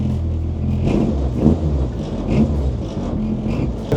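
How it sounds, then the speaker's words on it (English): A 1996 Nissan Micra K11 rolls along on a flat tyre, its engine whirring and rumbling up close with small rises in revs and a steady low drone. "We're driving on a flat tyre,"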